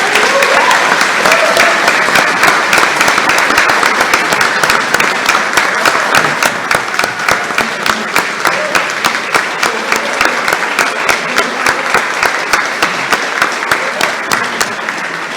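Loud, sustained applause from a large crowd at a JROTC cadet awards ceremony, dense and steady throughout with no pauses.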